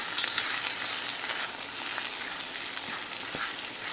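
Homemade chili with beans cooking in a pot, a steady, close sizzle and bubbling with faint scraping from stirring, continuous throughout.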